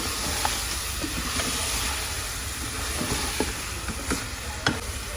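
Medium tomato slices frying with mutton in a pot for stew, a faint steady sizzling hiss with occasional small stirring taps, heard alone.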